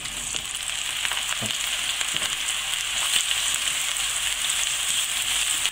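Aubergines frying in hot olive oil give a steady, dense sizzle and crackle, loud and close throughout, with a few soft clicks of stirring and no talking.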